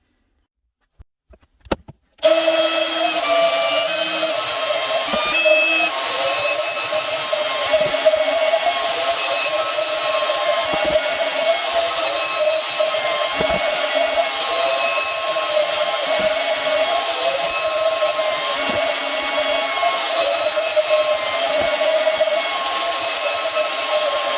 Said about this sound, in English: It really does not take much to cut PVC.